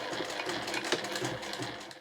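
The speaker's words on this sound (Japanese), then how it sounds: "この位置にミシンで縫っていきます。" Sewing machine running steadily as it stitches a seam in fabric for a small cloth item, a continuous close mechanical whirr with a slight pulsing rhythm and no talk.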